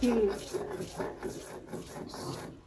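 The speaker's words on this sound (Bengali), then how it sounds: "চাপা শুটকিটাকে একদম ফিনিশ করে বেটে নিবে" Dried chapa shutki fish being crushed on a flat grinding stone, heard as short, repeated scraping rubs in a steady back-and-forth rhythm, close by, with a brief voice at the start.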